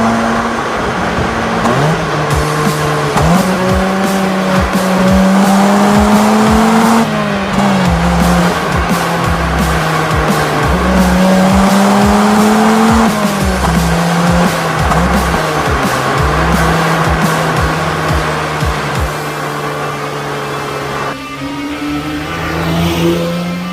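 Mazda RX8 with a rotary engine drifting, the high buzzing engine revving up and down repeatedly as the tires squeal loudly through the slides, close and continuous.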